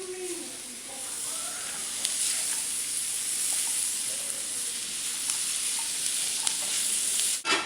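Brussels sprouts cooking in a pan, a soft continuous sizzle and hiss with occasional faint clicks and scrapes, steady and fairly quiet throughout.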